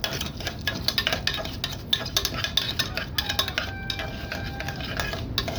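Rice fried in a pot for koshari is stirred steadily, with a spoon clicking and scraping against the pot in a quiet, irregular rhythm over a soft frying hiss.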